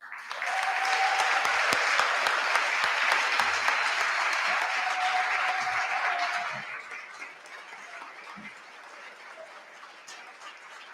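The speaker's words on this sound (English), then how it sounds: "Please help me give a huge round of applause" Enthusiastic applause fills the room at a book launch, loud sustained clapping from a large audience that drops after about six seconds to lighter scattered claps, with a brief whistle-like tone above the crowd.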